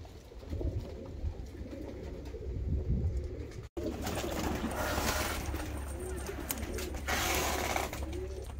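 Young, healthy show pigeons of fancy breeds coo steadily in a snowy loft, a dense low burbling chorus from many birds close by, with a brief gap partway through and no talk.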